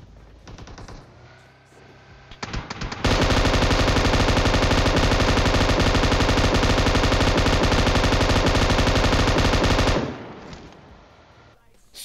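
An M249 machine gun in PUBG Mobile fires one long unbroken stream of rounds for about seven seconds, loud and close, with a short staccato burst just before it and quieter game ambience around it.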